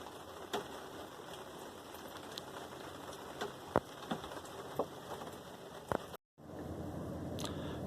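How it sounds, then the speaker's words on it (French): Light rain falls in near-calm conditions, a soft steady patter with occasional sharper drops close by; it cuts out briefly, then resumes a little louder. "Il n'y a quasiment rien en vent, mais il pleut."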